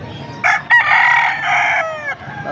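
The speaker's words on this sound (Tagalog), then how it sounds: "Mga bull stag na to guys, bull stag." A bull stag rooster crows once, close and loud, a single drawn-out call with a short clucking note at its start.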